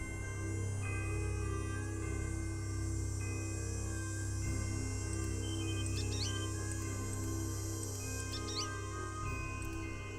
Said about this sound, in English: Little bird.